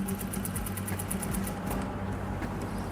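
Sewing machine stitching lace onto the lining of a kameez, running in a fast, steady whir of needle strokes that stays close and loud for the whole stretch, with no talk.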